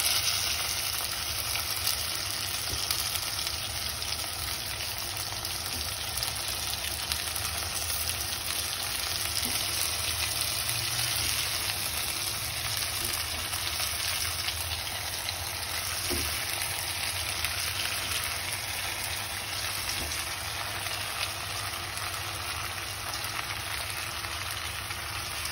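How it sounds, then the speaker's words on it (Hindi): Stuffed potatoes and brinjal sizzle in a pan with oil, a steady, even crackle that runs without a break, moderately quiet and with no voices. "और ये मैंने जो भर के रखे है आलू और बैंगन उसे डाल दूंगी।"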